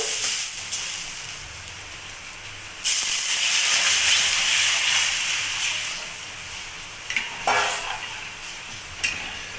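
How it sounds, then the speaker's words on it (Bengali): Water poured into fried red lentils in a hot wok bursts into a loud steamy hiss that swells and lingers, with a few sharper flare-ups near the end. "ডাল ভাজা হয়ে গেছে এবার পরিমাণ মতো জল দিয়ে দেব"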